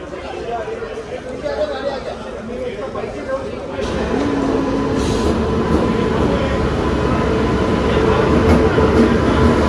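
A train pulls into a busy station platform where a crowd has gathered. A steady rumble swells and grows louder partway through, then holds close and loud, with voices chattering underneath.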